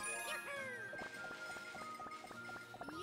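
Cat bell item pickup chime in Super Mario 3D World on Nintendo Switch, a bright tinkling jingle ringing through steady game music, with repeated light plucked notes and clear tones sustained across the short span.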